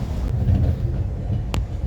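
A steady low rumble of a train rolling along, with a brief sharp clack near the end; no one speaks.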